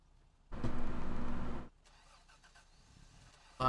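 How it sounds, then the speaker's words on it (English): A car engine in a farming multiplayer video game cranks and catches for about a second, then drops to a low idle before a brief sharp burst near the end, fairly faint overall with no talking. "You hear them starting the engine."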